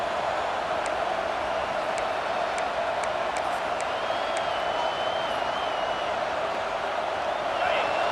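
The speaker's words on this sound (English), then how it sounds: "this crowd is turning it up a notch" Virtual stadium crowd in EA Sports College Football 26 roars and applauds during a football game, a steady, loud wash of cheering that holds throughout with scattered whistles above it.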